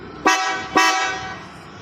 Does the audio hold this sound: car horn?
yes